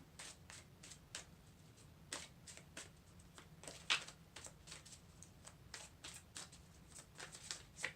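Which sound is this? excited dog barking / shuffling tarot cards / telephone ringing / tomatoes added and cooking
shuffling tarot cards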